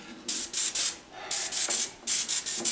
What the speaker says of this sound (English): Just kind of spray that around on it.